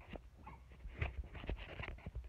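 A dog whimpers and whines softly at close range, with short high cries and snuffling pants, fairly faint and without any talking.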